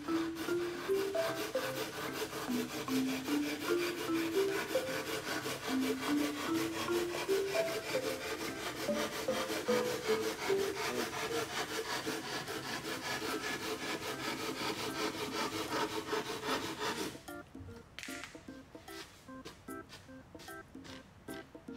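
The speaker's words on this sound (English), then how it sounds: "Now I'm going to cut a drywall." A folding hand saw cuts through drywall in steady back-and-forth rasping strokes, close and continuous with a squeaky tonal edge, the strokes turning sparser and more broken near the end.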